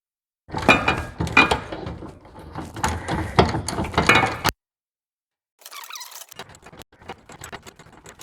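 A hand ratchet turns a bolt under the mower deck of a John Deere Z920M. It gives about four seconds of dense, fast metallic clicking up close, a sudden pause, then fainter scraping and rustling.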